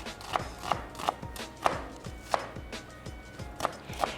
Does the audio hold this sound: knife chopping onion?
yes